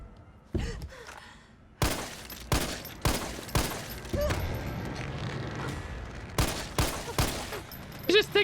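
Repeated gunfire in the Resident Evil 3 Remake video game, a series of loud sharp bursts spread across the stretch with brief gaps between them, over in-game sound and a faint voice.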